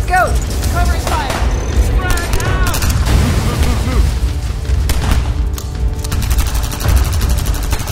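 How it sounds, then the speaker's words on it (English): Sustained volleys of gunfire with booming impacts in a war scene from an audio drama based on Philip K. Dick's Second Variety, loud and continuous under shouted dialogue and whistling ricochet-like effects. "Covering fire."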